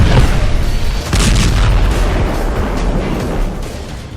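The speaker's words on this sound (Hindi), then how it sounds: "इजरायली सेना पूरे गाजा में चुन चुनकर हमास की सुरंगों को धमाकों से उड़ा रही है" Heavy, sustained booming blasts from explosions destroying Hamas tunnels across Gaza, one deep continuous roar with a brief dip and a second swell, loud and rumbling with no voices.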